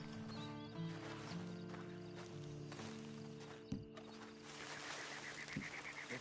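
Horse hooves clip-clop steadily in a video game scene, with a neigh or whinny rising over ambient game sound and a low hum.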